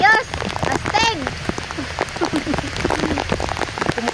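Steady rain patters onto surfaces outdoors during a rainy fishing trip with dragon bubu traps, a dense continuous hiss of drops throughout, with people talking and shouting over it.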